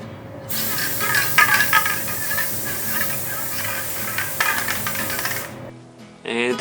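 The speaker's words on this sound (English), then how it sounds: "I was using spray glue" Spray adhesive glue hisses from an aerosol can in steady bursts for several seconds while laminating an arcade cabinet board, loud and close, then cuts off abruptly.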